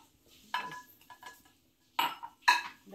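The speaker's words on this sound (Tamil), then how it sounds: "ஸ்பைசஸ் தட்டிக்கும்." Whole spices pounded for masala tea, a few sharp clinking knocks of metal on metal in small clusters, close and fairly quiet with pauses between strikes.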